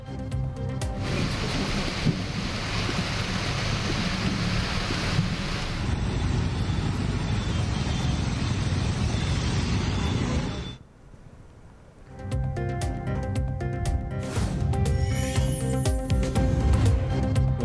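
Heavy rain pours down with floodwater rushing across a road in Tambaram, a suburb of Chennai, as a loud, steady wash of water and wind that dips briefly before surging back.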